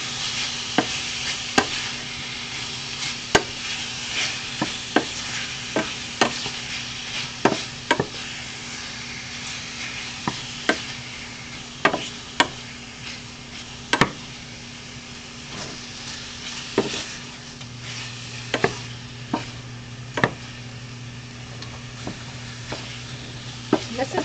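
Meat and spices brown in a pan with a steady frying sizzle, punctuated by regular sharp knocks and scrapes of a utensil stirring against the pan, close and continuous throughout.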